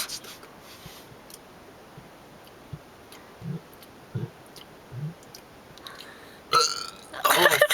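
Several short, loud burps from people in a casual burping competition, spaced through a quiet room, with a longer, rougher burst near the end.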